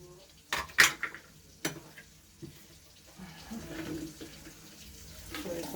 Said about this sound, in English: pour it out in my juice pan